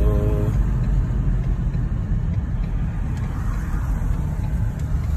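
Busy road traffic passing near a collision repair center, with a steady, loud broadband roar of cars and heavier vehicles that holds for the whole stretch without a break.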